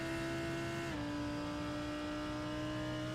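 Onboard a Lamborghini Huracan GT3 race car during a 12-hour endurance race at Spa, the engine holds a loud, steady drone, with a quick pitch drop near the start as it shifts gear.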